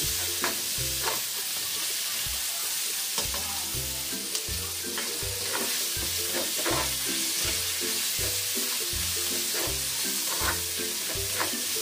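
Pork for pork pochero sizzles and fries steadily in a pan, with regular rhythmic scraping and stirring strokes throughout at close range, and no talking.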